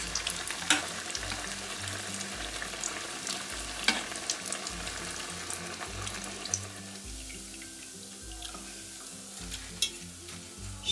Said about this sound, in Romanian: Și așa prăjim gogoșelele noastre.